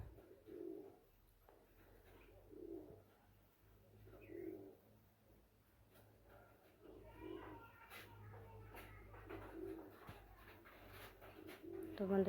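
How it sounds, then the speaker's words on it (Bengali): Pigeons kept at a home coo softly in repeated low bursts about every two seconds, faint in the background of a kitchen where vegetables are being cooked and a person talks. "এখানে কিন্তু কবুতরে ডাকতেছে, আওয়াজ তো শুনবাই"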